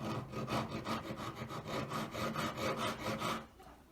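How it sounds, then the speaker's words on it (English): Hand filing flattens the side of a square four-claw metal collet: about eight even, rhythmic rasping strokes, close and clear, and then the strokes stop. "Filing it evenly across the surface, top to bottom."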